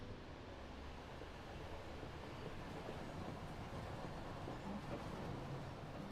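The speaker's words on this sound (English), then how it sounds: "The train's approaching its destination." A passenger train nearing Hoboken Station, a faint, continuous low rumble of cars rolling on rails, distant and even throughout.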